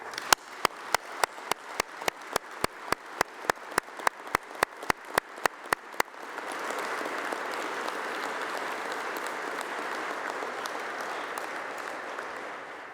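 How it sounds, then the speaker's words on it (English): Graduation ceremony audience at UCLan applauding graduating students: a run of about two dozen sharp, evenly spaced claps gives way to sustained, dense crowd applause that fills the hall until the end. "I would like if we could give the students a round of applause"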